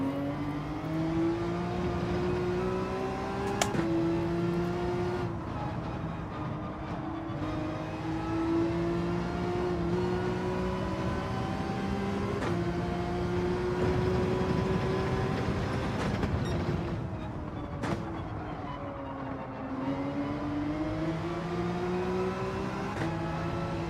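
A car drifts in the video game Gran Turismo 7, its engine a sustained, close drone whose pitch rises and dips repeatedly as revs shift, with a few sharp clicks scattered through.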